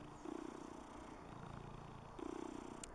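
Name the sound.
cat purring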